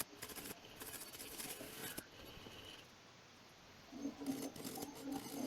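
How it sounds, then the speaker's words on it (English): A half-inch bowl gouge cuts a pine blank on a lathe while the corners of a winged bowl are shaped, giving a steady, fairly loud scraping hiss that drops out briefly midway, then returns with a rougher, chattering cut. "I've got the 1/2 inch bowl gouge and flattening out the bottom, getting the sides"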